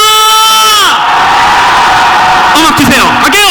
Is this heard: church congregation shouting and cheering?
yes